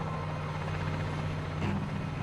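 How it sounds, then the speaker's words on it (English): A helicopter lifting off near Pripyat during the Chernobyl evacuation, a steady, dense engine and rotor drone with a low hum that holds at an even loudness throughout. "a helicopter is taking off on a special mission"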